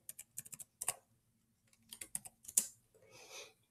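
Quick bursts of keystrokes on a computer keyboard, several short runs of close, crisp clicks separated by brief pauses, ending with a softer rustle.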